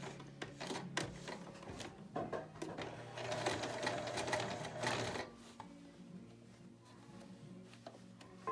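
A sewing machine stitches a jeans hem in rapid rattling runs, starting and stopping in short bursts with one longer stretch in the middle, close by and fairly quiet.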